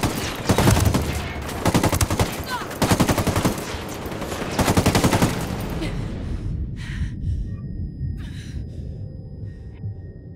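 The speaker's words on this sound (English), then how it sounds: "I'm opening fire." Machine gun fire in the video game Ghost Recon Wildlands, with several loud rapid bursts in quick succession, then a gasping voice and fading ambient game sound with faint distant shots.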